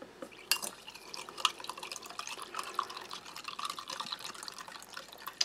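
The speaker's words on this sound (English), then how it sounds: "So I'm just going to about 3/4 fill." Water trickles and drips into a roughly 300 ml glass being filled about three-quarters full, a soft, close, uneven splashing with small glassy clinks, no voices.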